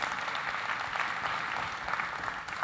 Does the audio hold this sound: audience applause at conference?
yes